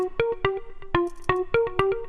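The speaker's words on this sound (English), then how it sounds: "This one will turn up reverb, and this one will turn up delay." Plucked bass notes in a steady rhythmic pattern, processed with reverb and delay effects in Ableton 12, giving an echoing tail where repeats and reverb smear each note into the next.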